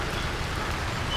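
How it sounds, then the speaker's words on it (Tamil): Steady rain pattering down around a street food stall in Goa, heard from beneath a tent, a continuous even hiss with no voices over it. "சரியாக மழை பெய்யுதுங்க."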